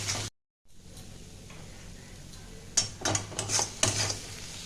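Pointed gourd (potol) bharta with chili being stirred and scraped in a kadai, a quiet dropout early on, then a cluster of metallic spatula clinks and scrapes against the pan near the end.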